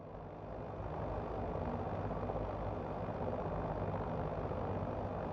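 A Hiller UH-12B helicopter engine warms up in a flight simulator, a steady, dense low rumble with an even droning hum that holds constant and fairly loud throughout, with no voices.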